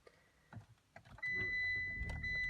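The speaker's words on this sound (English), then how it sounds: "So we'll just turn the car on here so you can have a look there." A Mitsubishi Eclipse Cross being switched on from inside the cabin: soft clicks and rustles, then an electric hum rising with a faint high tone and steady whirring, quiet and close.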